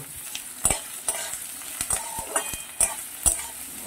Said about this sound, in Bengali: এবারে আমি দিয়ে দিচ্ছি কুচো করা পেঁয়াজ। পেঁয়াজটা আমি বেশ ভালো করে ভেজে নেব।